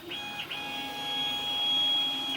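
A RatRig V-Core 3 500 3D printer running a long straight print move, giving a steady motor whine with sustained high stepper tones and a soft mechanical hum, close and even.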